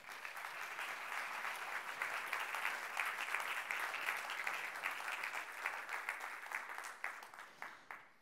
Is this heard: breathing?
no